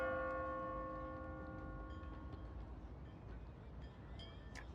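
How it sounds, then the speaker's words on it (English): A clock tower bell in the Honkai: Star Rail video game rings once, its bright harmonic tones sustaining and slowly decaying over several seconds, alone and fairly clear. "They got so lucky that they actually have a clock tower."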